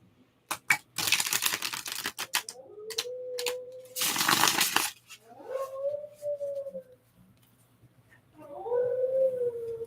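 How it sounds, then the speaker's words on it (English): A white, fluffy dog howls in the background, its rising, wavering cries coming in three drawn-out bouts between bursts of crinkly, clattering handling noise at moderate loudness. "I promise you, the dog making that noise is the whitest, fluffiest dog."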